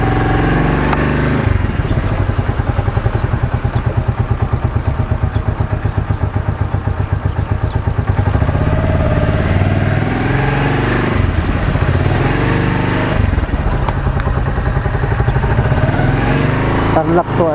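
A motorcycle ride to a cemetery in Tarlac: the engine runs loud and close, with a rapid pulsing putter and revving changes. Someone talks over it.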